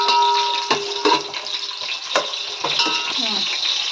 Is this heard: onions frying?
yes